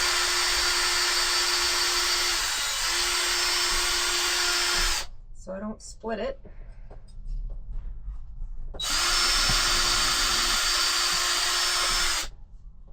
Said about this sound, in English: I'm going to pre-drill the holes on this little piece.